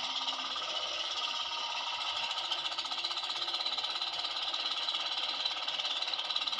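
A small boat's outboard motor runs at a steady pace, giving a loud, continuous buzzing drone with no pauses and no voices.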